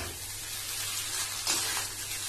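Veg chow mein sizzles steadily in a hot pan while two spoons lift and toss the noodles, a constant close frying hiss with a brief scrape of stirring midway and no talk.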